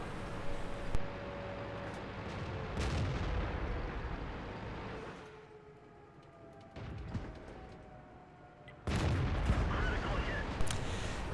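Tank cannon fire aimed at an enemy KV-1's tracks in a tank battle video game: a couple of heavy booming shots with long rumbling tails over steady engine drone, with a quieter stretch between them.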